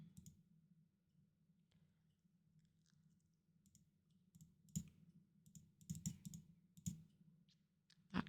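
Soft, close computer mouse clicks tapped over and over onto cards in solitaire, uneven and sparse at first, then quicker bursts over a low steady hum.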